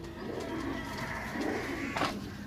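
Pigeons in a loft at Sarai Alamgir coo in low, soft, continuous murmurs, steady and close, with one brief brighter sound near the end.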